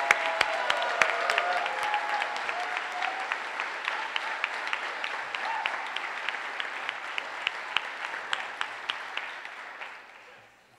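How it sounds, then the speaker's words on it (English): A press conference crowd at a university stadium announcement claps steadily, with crisp individual claps standing out over a fuller round that gradually thins and fades near the end. "please give a round of applause and welcome Stephanie Sherrod, President and Chief Executive Officer of TDECU"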